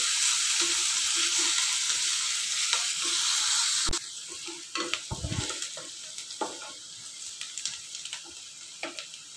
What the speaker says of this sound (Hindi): मीडियम सेक के उत्ते 2 मिनट वास्ते आपां प्याज भुनना है